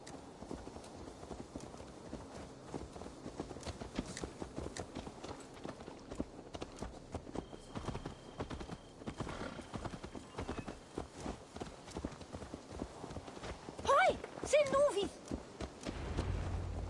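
Steady clip-clopping of horse hooves walking at an even pace in the video game Assassin's Creed Valhalla, with people talking over it and a louder burst near the end.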